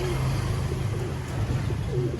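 Caged pigeons at a bird seller's stall coo softly in low, repeated rolling calls over a steady hum of background noise, with a few faint distant sounds.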